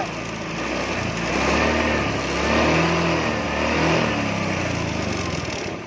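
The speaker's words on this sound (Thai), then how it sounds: "แล้วผมจะมาเบิ้ลเครื่องให้ดูนะครับ" A Honda Scoopy i scooter with an on-off stalling fault revs its small engine steadily. The loud, buzzing drone rises and falls in gentle swells while idling close by.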